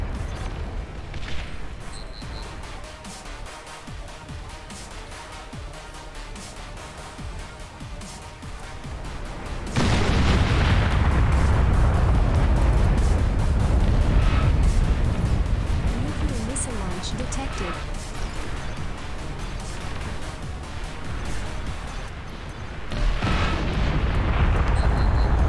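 Rocket bots in the real-time strategy game Beyond All Reason fire volleys that set off a loud, sustained barrage of booming explosions, beginning abruptly partway through and rumbling on, with a voice talking over the battle.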